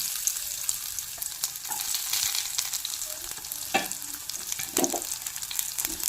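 Chopped garlic and ginger sauté in a pan with a quiet, even sizzle, broken by occasional stirring scrapes and taps close by.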